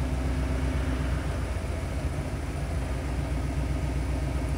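A car engine fitted with Holley Terminator HP EFI idles unevenly, its steady low rumble hunting up and down in RPM, loud and close with no talking.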